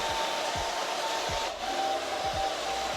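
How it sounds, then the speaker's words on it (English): A hair dryer blows steadily on bangs being dried downward, a loud, close, airy whir with a thin whine that dips briefly as the dryer shifts, with no talking. "So I just put it under here, and then I just take my blow dryer and blow dry it downwards."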